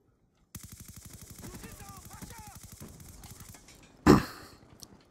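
Rapid automatic gunfire from a Black Ops 2 Kill Confirmed match on the Carrier map, a steady burst of close, loud shots running several seconds, with a sharp louder impact near the end.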